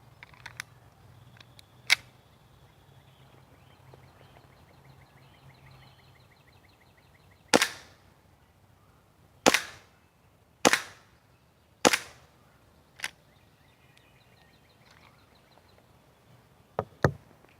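A WE M1911 gas blowback airsoft pistol fires about eight sharp, snappy shots at irregular intervals, loud and close, with quiet gaps between and two quick shots at the very end.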